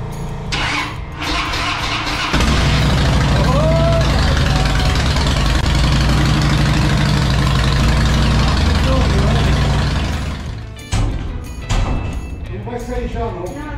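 A Harley-Davidson Dyna Super Glide motorcycle engine cranks and catches, then settles into a steady, rumbling idle up close, with voices talking over it near the end.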